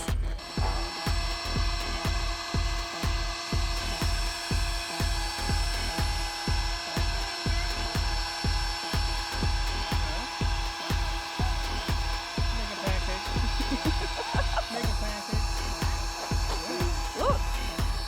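An air pump inflates a three-section Intex pool ring, its steady rapid pulsing drone running continuously, close and fairly loud, with a faint voice in the background.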